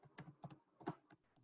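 Several quick keypresses clatter on a computer keyboard in an irregular burst, close and fairly soft, with no voices.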